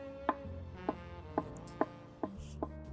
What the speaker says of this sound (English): slice it as finely as you can